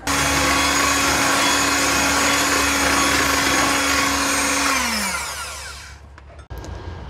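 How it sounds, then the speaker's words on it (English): An electric mixer whisks mascarpone cheese into berry sponge cake batter with a loud, steady whir that dies away near the end, followed by a brief clatter. "I'm going to be whisking that in for about a minute"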